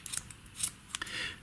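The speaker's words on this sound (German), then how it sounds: "jetzt nehmen wir uns die Schere und schneiden uns die Pompons in Form" Scissors snipping through yarn pompoms to trim them into shape, a few quick crisp cuts close up with short pauses between them and no talking.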